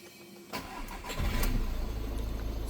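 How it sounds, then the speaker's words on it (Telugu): A 2015 Volkswagen Vento diesel car engine cranks briefly and catches, then settles into a steady, rumbling idle close by. "ఇంజన్ అనేది స్టార్ట్ చేస్తున్నాం"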